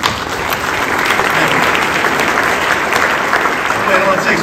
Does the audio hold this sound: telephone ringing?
no